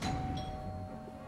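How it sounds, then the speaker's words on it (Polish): A doorbell in the video game Lego Star Wars: The Complete Saga gives a single short ringing chime that fades quickly. "Poważnie dzwonek do drzwi."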